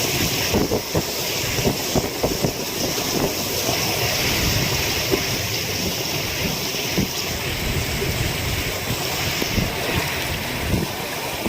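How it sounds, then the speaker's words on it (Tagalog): Strong typhoon wind roars at sea off Surigao, a dense continuous rush with buffeting gusts hitting the microphone and water noise underneath, loud and unbroken with no talk. "Ang lakas ng hangin."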